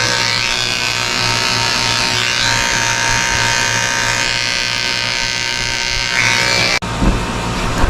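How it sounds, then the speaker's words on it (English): Electric clippers fitted with a 10 blade buzz continuously and close up while shaving a Cocker Spaniel during a grooming shave-down, the motor tone shifting slightly as the blade moves through the coat, with a fan running. "I'm shaving under his tail with a 10 blade"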